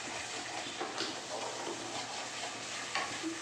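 Prawn curry masala with Kashmiri chilli sautéing in a pan after water is added, a soft steady sizzle broken by light scraping strokes of a spoon, fairly quiet and with no talk.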